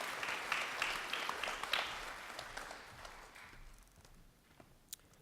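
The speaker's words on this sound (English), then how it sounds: "So let's give her a round of applause for Joanne Serafin" An audience applauds a teacher at a haiku festival, a steady crowd clapping that thins and fades toward the end, with a last few scattered claps.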